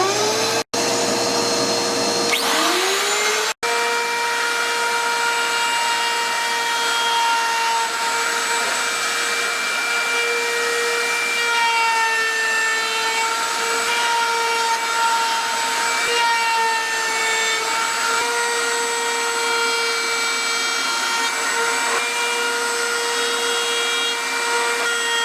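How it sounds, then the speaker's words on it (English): A router table rounding over square wood edges, with a shop vacuum connected, gives a loud, steady whine with strong tonal harmonics that runs the whole time, briefly dropping out and spinning back up near the start. "Just make sure the vacuum's connected and on when you're using this machine."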